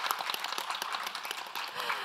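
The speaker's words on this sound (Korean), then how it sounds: "응원과 격려의 박수 한번 보내주시면 좋을 것 같은데요" Brief burst of audience clapping at a Korean parent and school education policy event, a dense patter of many hands close by, fairly soft and steady for about two seconds.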